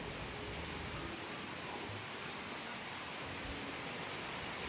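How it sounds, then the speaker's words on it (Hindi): Heavy monsoon rain pours steadily, a constant dense hiss of falling water with no pauses, fairly faint and even throughout. "लो बारिश भी चालू हो गई कितनी तेज।"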